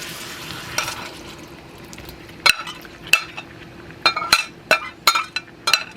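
Mongolian beef and garlic stirred in a frying pan, a steady sizzle under a series of sharp utensil clinks and scrapes against the pan, coming in quick bursts toward the end.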